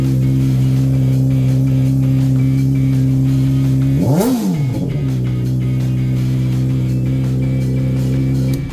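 A Honda CBR600RR Phoenix Edition motorcycle engine running loud and close after a cold start, holding a steady idle, then a single sharp rev that rises and drops back to idle.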